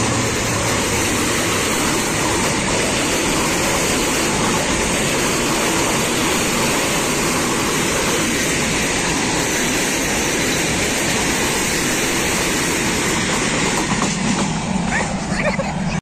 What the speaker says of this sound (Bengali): তো দেখুন বন্ধুরা ট্রেন আসতেছে।